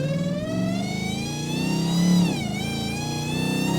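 Dodge Hellcat Charger rated around 1,000 hp on E85 fuel, its engine pulling loud and steady with a rising harmonic whine, the pitch dipping briefly at a gear change before climbing again.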